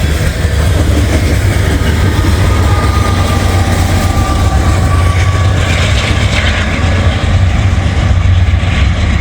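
A freight train's distributed power unit locomotive passes close by, giving a loud, continuous rumble and rail roar with steady clatter throughout, no talking.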